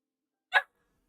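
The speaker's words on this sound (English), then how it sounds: "Why are you barking at me?" A puppy gives a single short, sharp bark close by, then silence.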